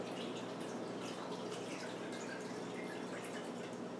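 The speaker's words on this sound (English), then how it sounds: "pouring this into a bowl" Homemade kefir poured through a strainer into a bowl to separate the grains, a steady continuous liquid trickle and splash filling the whole stretch at moderate loudness.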